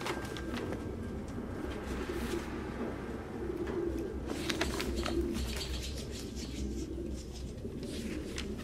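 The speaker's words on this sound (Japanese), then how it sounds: "もう鳩は勘弁してくれ。" Pigeons coo steadily in the Detroit: Become Human video game, a low murmuring layer of repeated calls over constant ambient hum, with some faint higher chirps and no voices.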